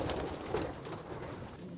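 Racing pigeons cooing inside a transport basket, soft murmuring coos and rustling close by, continuous and low.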